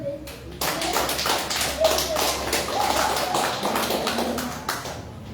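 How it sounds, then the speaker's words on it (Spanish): A church congregation claps hands together during a Sunday service, dense and sustained rhythmic clapping with a steady mass of sharp slaps, fairly loud and close throughout. "Dale una ofrenda de palmas al Señor."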